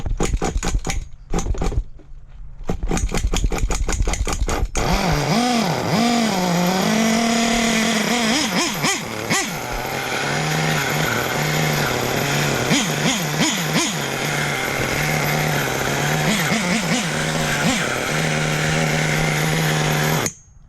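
A small engine starts after several sputtering pulls, then runs at a high, buzzing idle with wavering pitch and a breathy, air-sucking whine throughout.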